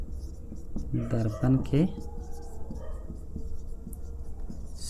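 Short scratchy strokes of writing on a board during a physics lesson on concave mirrors, heard under a voice speaking, then continuing as faint scraping in a steady low-hum room.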